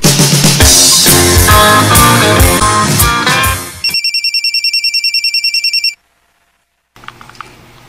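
After loud background music cuts away, a telephone rings in a rapid, repeating electronic trill for about two seconds, then stops into silence before faint sounds return.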